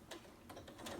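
A sewing machine makes a few faint, slow mechanical stitching clicks in about a second, evenly spaced and quiet.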